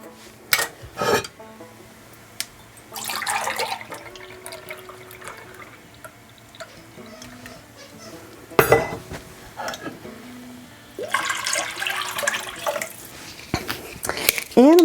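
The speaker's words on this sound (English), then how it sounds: "now I'm also going to add in 2 cups of milk" Milk poured into a soup pot, two cups added to a creamy winter comfort soup, giving a liquid trickle with clinks of pots and utensils and some background hum, no talking over it.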